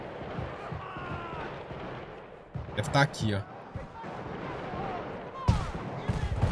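Gunfire crackles in a GTA V gang war in a favela, sharp bursts and a rapid cluster of shots at moderate distance, with someone talking in between.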